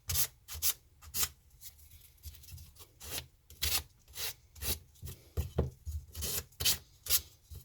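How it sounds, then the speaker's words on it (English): Hand sanding of a wooden block for a gouge strop, a rhythmic run of short raspy strokes, roughly a dozen back-and-forth rubs, close and fairly loud with brief pauses between them. "Block has been sanded."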